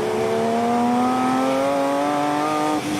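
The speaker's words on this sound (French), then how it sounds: "Vous entendez ce moteur?" A Porsche 911 GT3's naturally aspirated six-cylinder engine, able to rev to 9000 rpm, holds a loud, smooth, steady note as its pitch climbs gradually before briefly dipping at the end.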